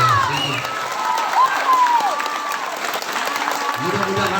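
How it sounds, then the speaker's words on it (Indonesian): Audience applause and some cheering after a theatre performance of Sang Nabi, sustained clapping from a crowd with voices rising over it. "mari kita berikan aplaus untuk komunitas Polisi"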